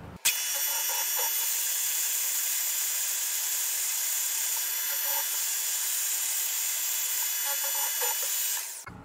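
Milling machine XY table being cranked to a hole position on a setup with a Walter UTA80 dividing head, a steady continuous hiss and whirr of machinery, close and even throughout with no talk.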